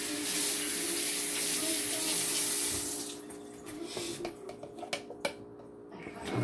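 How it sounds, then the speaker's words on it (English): Running tap water pours over Atlantic salmon being rinsed in a kitchen sink, a steady close rush for about three seconds before thinning into drips, splashes and light handling clatter. "Let me rinse it off."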